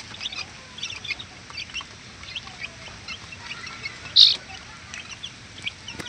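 Chickens from the hen Poging Maganda's brood on a backyard farm, with soft clucks and chirps scattered among faint rustling, plus one brief louder call near the end.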